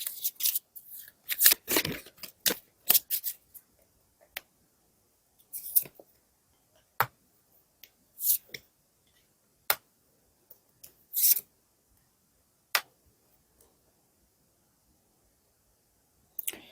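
Tarot cards drawn for a luck card at the close of a reading: sporadic soft slides, flicks and taps, clustered at first and then spaced out, quiet and close with silent gaps and no talk.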